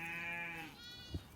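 A sheep on a Tudor-era monastery farm gives one sustained, wavering bleat at moderate distance, followed by a short thump.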